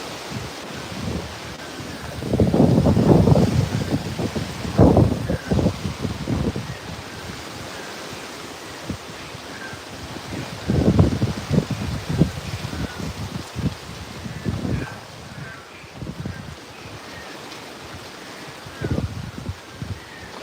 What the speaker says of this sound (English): we get these crazy hurricane level wind gusts